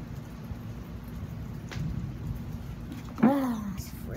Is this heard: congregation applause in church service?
no